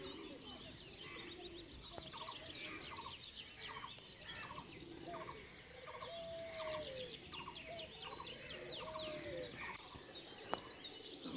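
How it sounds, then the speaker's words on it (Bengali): Doves in a zoo enclosure coo softly amid a chorus of chirping and twittering birds, a faint, busy layer of calls repeating throughout at a distance. "কত সুন্দর ঘুঘু পাখি দেখেন"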